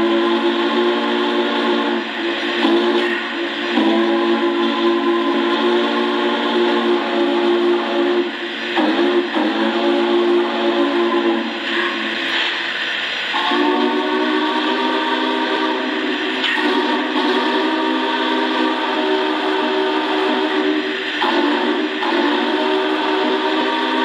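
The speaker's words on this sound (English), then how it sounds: "Let's go ahead and listen to the second whistle." A model train steam whistle from a Lionel O scale Union Pacific Big Boy blows in long, loud, sustained blasts with brief breaks, its layered tones ringing steadily.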